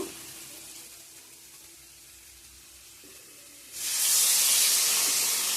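Water poured into a hot pan while cooking in a home kitchen; a quiet start gives way to a sudden loud, steady hiss and sizzle that continues to the end.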